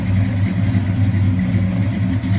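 A 1968 Dodge Coronet Super Bee's engine runs steadily nearby, a loud low rumbling hum with a faint ticking texture and no voices over it.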